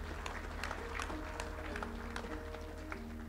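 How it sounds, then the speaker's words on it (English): Applause at a wedding reception at Zimbali Resort in Ballito, a dense, steady wash of many hands clapping with background crowd noise and a low hum throughout. "Give him a round of applause, please."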